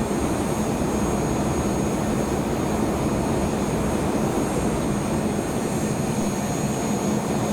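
A jet aircraft engine roars steadily and loudly in the Arma video game during a US vs Chinese air assault match, a constant wide roar with a high whine running unbroken throughout.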